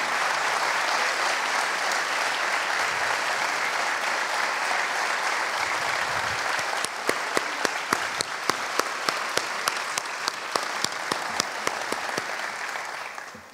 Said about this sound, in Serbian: jednim velikim aplauzom pozdravimo gospodina Lonića